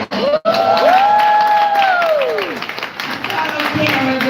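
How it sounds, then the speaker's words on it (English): A crowd at a live homeownership event claps and cheers loudly and continuously. Shouts and whoops rise over the applause, and it slowly fades toward the end. "Hey, give him another hand clap."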